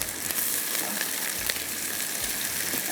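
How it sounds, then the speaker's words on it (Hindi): Sliced onions frying in hot oil in a pan, a dense, steady crackling sizzle that continues evenly and close up with no talk. "तो इसको हम यहाँ पर प्याज को हल्का सा फ्राई करके निकालेंगे।"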